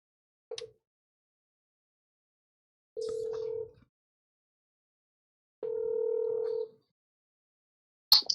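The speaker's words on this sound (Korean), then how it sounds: "전화 연결을 한번 해보겠습니다" A telephone call is placed and connects: a short tone, then two long, steady ringback tones with silence between them, and a brief click as the line picks up, all clear and alone.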